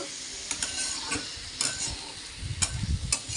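Spices are stirred with Malabar spinach and a fish head in a sizzling pan, with a spoon scraping and clinking against the metal in repeated strokes over a steady fry.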